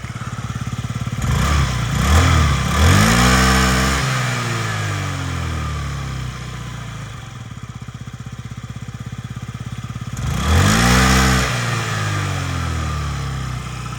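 A Yamaha Jog SA36 fuel-injected scooter from Japan revving twice, each time climbing to a loud whine and falling back to a steady idle, recorded close with no talking.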